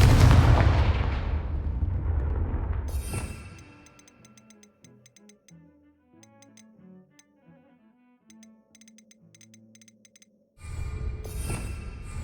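Confringo spell blasts boom in Hogwarts Legacy, a loud rumbling burst at the start and another near the end, with quiet plucked game music in the gap between.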